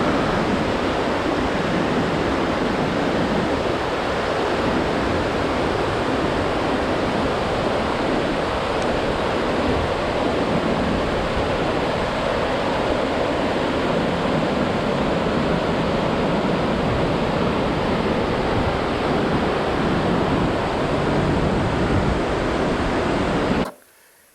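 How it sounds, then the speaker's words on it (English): Rushing mountain stream and waterfalls along the Yankee Boy trail in the Rocky Mountains, a loud, steady broadband roar of churning water that holds unbroken and close for the whole stretch before cutting off abruptly at the end. "I absolutely love these mountain streams."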